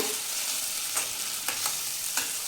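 Ground masala paste stirred as it fries in oil for chicken sukka, giving a soft continuous sizzle with a few spaced scrapes of the spoon, fairly quiet and close.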